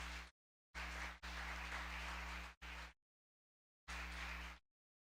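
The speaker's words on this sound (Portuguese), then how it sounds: "Você pode aplaudir o Senhor Jesus" A church congregation at an evangelical service claps in several dense bursts, each lasting under a second to about a second and a half, separated by abrupt silences.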